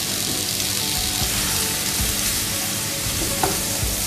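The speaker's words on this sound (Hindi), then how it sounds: "इसे हमें लाइट ब्राउन से थोड़ा ज़्यादा ब्राउन होने तक इसमें फ्राई करना है।" Two medium chopped onions frying in oil for a dhaba-style egg curry, a loud dense sizzle crackling continuously with occasional stirring scrapes, no voices.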